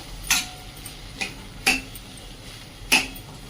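A spoon scrapes and taps against a pan while grated beetroot and fresh coconut are stirred, giving four or five sharp metallic clinks spaced irregularly over a low kitchen hum, close and without talk.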